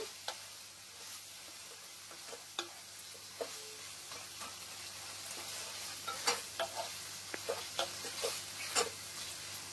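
A chili garlic mixture sizzles quietly in a pan while a spatula stirs it, with sharp intermittent scraping strokes over a soft steady frying hiss.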